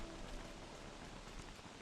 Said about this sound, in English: made all the more beautiful by this lovely rain.